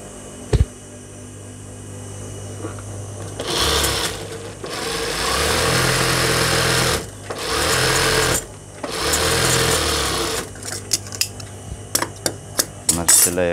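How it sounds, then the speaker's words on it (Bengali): Sewing machine running in several bursts as it stitches cotton fabric for palazzo pants, a steady mechanical whir that starts and stops with short pauses and clicks between runs. "এই পাশটাও সেলাই দিতেছি।"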